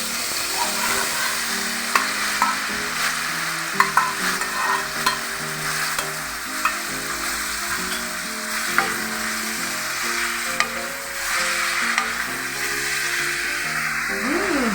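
Jackfruit sizzling and being stirred in a frying pan for ginataang langka, a steady hiss of frying with repeated scraping stirs and occasional sharp clicks of the utensil against the pan, close and continuous.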